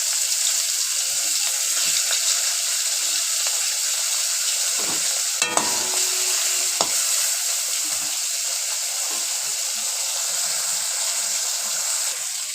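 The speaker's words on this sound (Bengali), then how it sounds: "তেলটা গরম হয়ে গেছে, নুন হলুদ মাখানো ইলিশ মাছের মাথাগুলো ছেড়ে দিলাম চচ্চড়ি বানানোর জন্য।" Salt-and-turmeric-rubbed hilsa fish heads fry in hot oil for a chorchori, a loud continuous sizzle and crackle close up, with a few scraping and clinking sounds from turning them.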